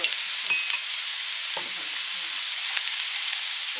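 Vegetables for egg chicken chowmein frying in a pan, a steady bright sizzle close up, broken by a few soft stirring knocks, with no voices.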